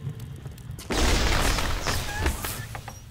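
A grenade detonates in BioShock Remastered, a sudden loud boom followed by a second of rumbling debris and gunfire-like crackle, close and heavy.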